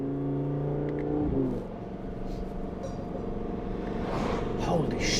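Audi R8 V10 Plus engine revving hard on a hillclimb, a loud sustained roar that drops briefly as it shifts, then climbs again under excited talk.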